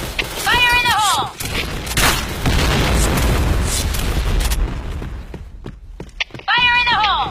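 A grenade goes off in the Point Blank shooter game with a heavy, rumbling boom that fills several seconds, bracketed by brief shouted voice lines before and after.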